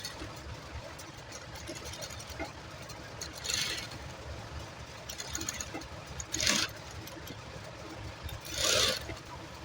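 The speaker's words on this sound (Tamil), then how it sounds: "இப்போ நம்ம வந்து ஸ்டிச் பண்ணுறோம்" A sewing machine stitches a neck design on fabric in short separate runs, each a brief burst of rapid mechanical whirring over a steady low background hum.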